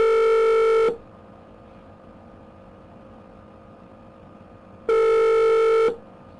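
Telephone ringing unanswered during a call, two loud electronic ring tones about a second each, separated by roughly four seconds of quiet line hiss.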